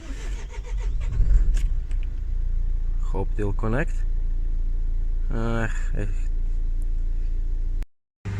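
A diesel car with a DPF cleaned using WURTZ chemical idles steadily and close by during regeneration, a low constant rumble under brief talk, cutting out abruptly near the end.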